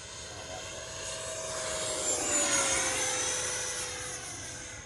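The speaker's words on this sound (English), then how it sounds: "the L-39 is just cruising at half throttle, steady as she goes" A Freewing L-39 Albatross 80mm EDF RC jet cruising at half throttle, a steady whining turbine-like roar that swells as it passes closer and then fades slightly, heard alone outdoors.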